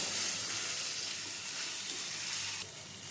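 Cut potato pieces fry in a pan over a low-to-medium gas flame, giving a continuous bright sizzle and hiss with faint stirring scrapes, close and steady throughout.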